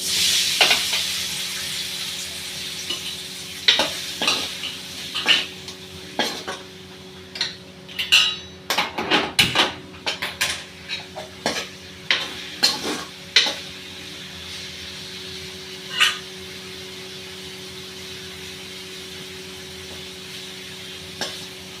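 Paneer frying in oil in a pan, a steady sizzle with a dense run of sharp spatula clinks and scrapes in the middle that thin out toward the end, no voices.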